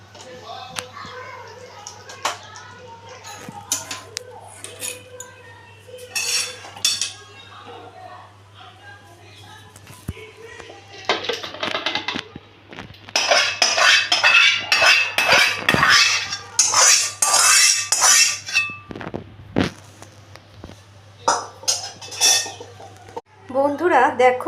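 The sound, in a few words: serving potol curry, utensils clinking on dishes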